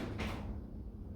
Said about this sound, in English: That is the wind pushing against the garage door.